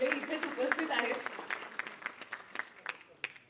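An audience at a Marathi kirtan launch event bursts into loud applause that gradually thins out into scattered, fading claps.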